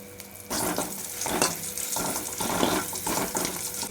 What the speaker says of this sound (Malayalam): ഉപ്പ് നിറച്ച പച്ചമുളക് ഇത്രയും എണ്ണ ഒഴിച്ചിട്ട് ചെറുതായിട്ടൊന്ന് മൂപ്പിച്ചെടുക്കുക